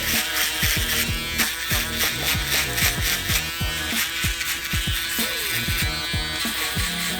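Electric shaver, one of a Babyliss, Braun Series 9 or Finale being compared, running in a loud close steady buzz while it is dragged over stubble, with some crunchy cutting texture. Music plays underneath it.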